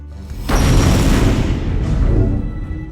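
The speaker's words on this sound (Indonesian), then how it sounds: "langsung membekukan lemari besi yang kemudian mereka ledakan" A bank vault explosion in an action film: a sudden deep boom erupts, followed by a sustained low rumbling roar that slowly fades, like a heavy blast inside an enclosed space.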